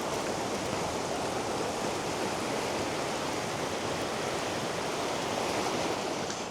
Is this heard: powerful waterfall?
yes